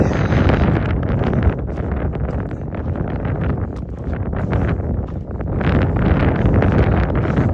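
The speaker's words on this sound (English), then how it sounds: "I hate running in the wind" Strong wind buffets the microphone on a morning trail run in the Scratchgravels, a loud continuous roaring rumble that surges and eases, with no voices.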